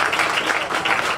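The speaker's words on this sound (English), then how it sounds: "Just a round of applause for everybody who worked so hard to" Steady, dense applause fills a room at a chamber of commerce officers' installation night, a crowd clapping together continuously and evenly, with no voices over it.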